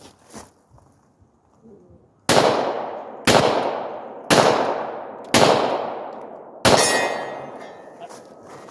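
Five loud Glock 22 pistol shots firing .40 caliber rounds one-handed, spaced about a second apart, each a sharp crack with a ringing decay, following a few quiet handling noises.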